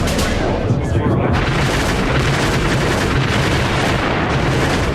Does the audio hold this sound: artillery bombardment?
yes